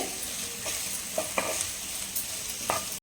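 Taro root pepper roast is stirred and roasted in a pan, with a steady low sizzle broken by several soft scraping strokes of the spoon and a sharp knock near the end.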